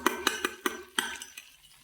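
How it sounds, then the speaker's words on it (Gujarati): A utensil stirs pickle spice mix cooking in oil, tapping and scraping against the pot in a quick series of about seven sharp clinks that fade toward the end. "હવે આપણે આ જે હવે છે એને હલાવી નાખશું, જેથી એકરો બધું એક સાઈડ હોય તો બધું ફરી જાય અને સરસ મજાનું તેલમાં ચડી જાય"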